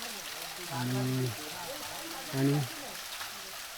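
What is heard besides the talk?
small stream or waterfall, flowing water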